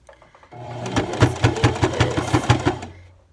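A sewing machine stitches a sweater made from a beginner Simplicity S9019 pattern. After a short pause it runs in one close, steady burst of rapid rhythmic needle clatter for about two seconds, then stops.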